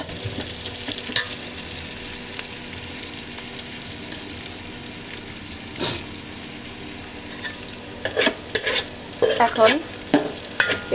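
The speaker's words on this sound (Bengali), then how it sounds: "আমি সামান্য কালো জিরা আর জিরে দিয়ে ফোড়নটা দিয়ে নিলাম" Nigella and cumin seeds tempering in hot oil give a low, steady sizzle with scattered crackles, then a cluster of louder scraping stirs near the end.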